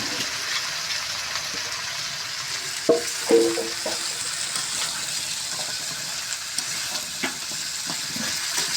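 Pumpkin pieces fry in a pan with a steady, moderate sizzle, broken by a few brief clanks and stirring bumps near the middle.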